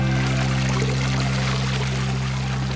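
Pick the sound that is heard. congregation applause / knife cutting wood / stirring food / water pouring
water pouring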